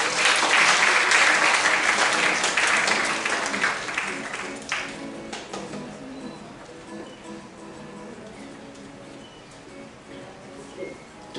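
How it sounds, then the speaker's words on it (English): Loud applause from an audience at a political science public lecture, welcoming a board of trustees member to give remarks; the clapping is dense for about five seconds, then thins and fades into a quieter room with scattered claps. "Please give him a round of applause."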